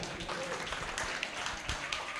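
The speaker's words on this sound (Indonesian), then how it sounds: "Saya mau minta tepuk tangan lebih keras lagi buat beliau hari ini" A fairly quiet, steady wash of audience clapping at an indoor corporate talk event, sustained and even across the clip with no voices standing out.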